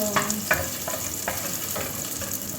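Garlic frying in a pan, a steady close sizzle with soft rhythmic stirring scrapes every half second or so, no voices over it.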